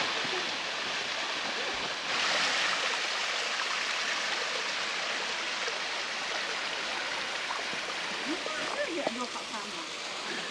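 A waterfall and stream in the Smoky Mountains rush in a steady, full broadband roar that continues without a break, with faint voices nearby.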